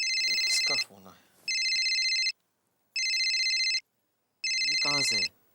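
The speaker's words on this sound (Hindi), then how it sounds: "इसका फोन है," A telephone ringtone chirps in four loud, evenly spaced electronic bursts indoors, with short gaps between them, while someone speaks in the pauses over the first ring and the last.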